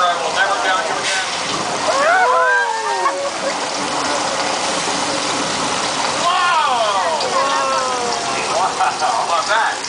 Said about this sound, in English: Oh, look at the water coming.